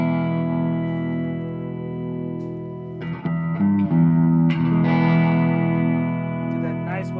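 A $179 Fender reverb pedal is played through an amp, giving sustained, heavily reverberant guitar tones that ring on steadily and swell louder midway with new struck notes.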